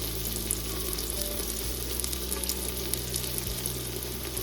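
Steady, dense frying sizzle from coriander leaves browning in a pan while cooking kushka rice, continuous and fairly close with no voices.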